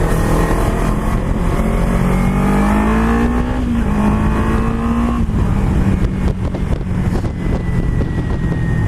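A four-wheel drive car passes close by in traffic, its engine drone rising and shifting in pitch over a steady wash of road and wind noise, with no voices.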